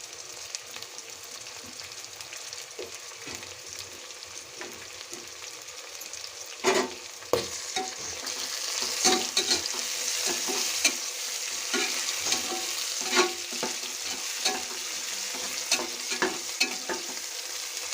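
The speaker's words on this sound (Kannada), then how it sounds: "ಹಾಕಿ ಈ ಥರ ಫ್ರೈ ಮಾಡಬೇಕು ನೋಡಿ ನೀಟಾಗಿ ಫ್ರೈ ಆಗ್ತಾಯಿದೆ" Coriander and mint leaves fry loudly in a pan for chicken biryani, a continuous close sizzle broken by repeated stirring scrapes and knocks.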